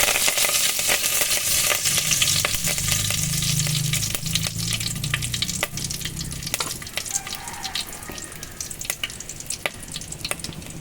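Curry leaves fry in hot oil, giving a dense, loud sizzle peppered with sharp crackling pops that thin out toward the end. No one speaks.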